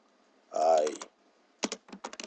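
Keyboard keys clattering as code is typed in Unity, one short run of strokes followed by a quick burst of separate taps, close and fairly quiet, with a stretch of speech-like sound partway through.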